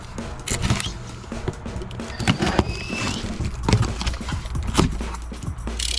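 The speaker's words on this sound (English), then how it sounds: "Let's open it up." A GoPro Bones FPV camera box is opened by hand, with cardboard rustling, tapping and sharp clattery handling knocks scattered close to the microphone.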